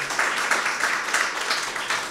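An audience at a Hungarian evening event applauds the young athletes, producing a fairly soft, steady patter of many hands clapping with slight swells.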